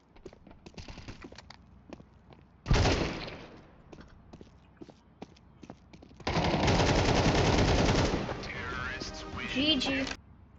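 Bursts of gunfire in a first-person shooter game, a sharp loud burst near three seconds and a long sustained rattle of rapid fire from about six to ten seconds, with quieter game sounds between.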